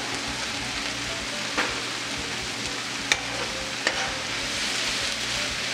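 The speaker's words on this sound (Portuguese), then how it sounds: "E vou deixar eles refogarem." Curry ingredients, including tomato, sauté in a pan with a steady, soft sizzle and hiss, broken by a few faint clicks of stirring.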